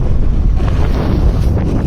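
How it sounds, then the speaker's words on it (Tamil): Steady breeze blowing across irrigated rice and sugarcane fields near Mathur, Kallakurichi, heard as continuous low rushing wind buffeting the microphone, loud and close with no voices. "என்ன தான் வெயில் அடித்தாலும் இந்த பக்கம் வந்தோம்னாவே கொஞ்சம் காற்று வந்து சிலு சிலுன்னு அடிக்கும்"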